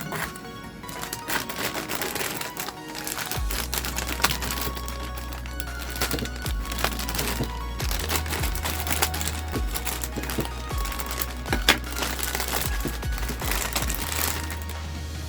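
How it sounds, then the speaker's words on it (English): Scissors snip and crinkle through stiff plastic packaging in a run of sharp, irregular cuts and rustles over a steady low hum. "I'm going to take my scissors and cut open each of these sections."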